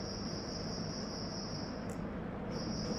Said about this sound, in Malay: Bunyi cengkerik.